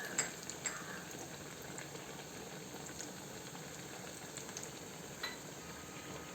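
Cutlets frying in hot oil, a soft continuous bubbling sizzle with a few faint clinks, quiet and steady with no talking.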